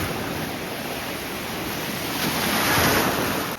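Surf rolls steadily onto a nearly empty beach in Valencia, a broad continuous wash of waves with wind buffeting the microphone, swelling slightly toward the end; no talking.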